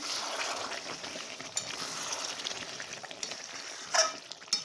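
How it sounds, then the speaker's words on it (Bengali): Quiet, steady sizzling of chicken frying in a pan, with a couple of faint clinks near the end. "এখন এই যে চিকেন রান্না হচ্ছে"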